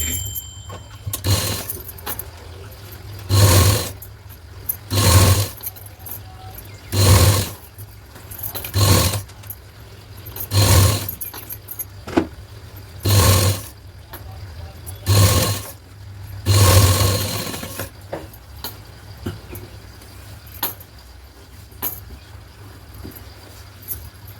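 A sewing machine stitches down a folded fabric edge on a fish-cut sleeve in short repeated bursts of about a second each, with brief pauses in between, near and fairly loud with a low motor hum underneath.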